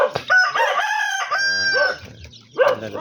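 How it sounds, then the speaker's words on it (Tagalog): A rooster crows among breeding hens on a small poultry farm: one loud, drawn-out, close cock-a-doodle-doo, then a short sharp call after a brief pause, with no talking. "Tandang, dalawa lang yung tandang"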